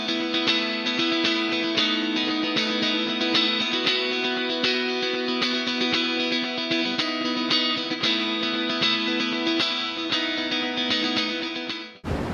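Guitar played through an Ibanez CS9 analog chorus pedal, sustained chords and notes with a shimmering, wavering chorus and some grit, ringing out alone before cutting off at the end.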